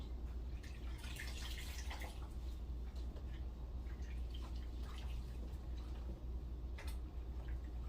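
A washcloth rinses a foot in a basin of water during foot care, making soft, irregular drips and splashes. The quiet liquid sounds come close up over a low background hum.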